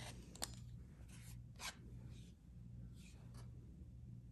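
Scissors or a cutter slices across fabric for a ruffle bag in a few short, soft scraping strokes, close and quiet over a low steady hum.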